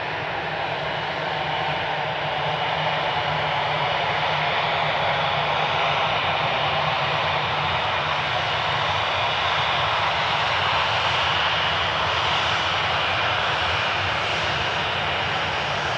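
An airplane engine roars steadily and close during an early-morning departure, a broad, constant drone that holds for the whole stretch with no talk over it.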